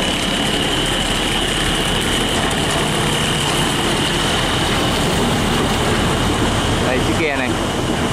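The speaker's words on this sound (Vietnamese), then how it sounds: "Còn cái máy nó nghe phê thì các bạn." Engine of a wooden cargo boat or barge used for hauling cement, stone and sand on a Vietnamese river, a loud, constant droning hum with wind noise and voices mixed in.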